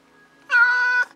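A cat lets out a single clear, close meow lasting about half a second over an otherwise quiet background.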